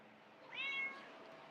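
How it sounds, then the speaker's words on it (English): A hungry cat gives a single short, faint meow indoors, rising briefly out of quiet room tone. "I gotta go feed this kitty"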